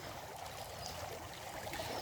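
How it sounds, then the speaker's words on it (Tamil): Water flowing steadily into a village pond (kanmai) in a rural farming area, a continuous, fairly faint rushing trickle with no voices. "இவ்வளோ தண்ணி வந்துட்டு இருக்குது"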